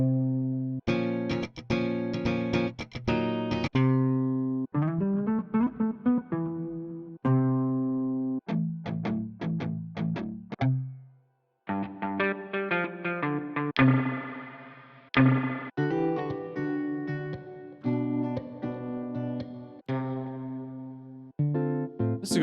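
Electric guitar pattern previews from the NI Electric Ruby Deluxe plugin, a series of short rhythmic strummed and picked phrases with distortion and effects, loud and close with brief gaps between patterns, no talking.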